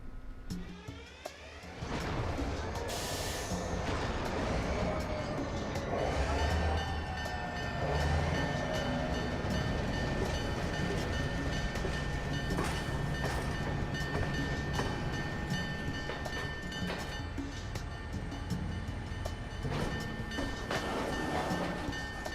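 In a video game, heavy freight train SP 7551 East slowly starts rolling on Cajon Pass, its deep engine rumble building steadily with metallic squeals and clanks, continuous and loud throughout.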